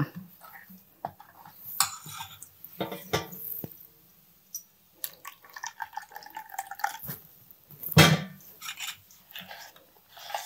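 Water splashes and trickles into dosa batter in short bursts, with clinks of utensils and metal pots between pours, close by.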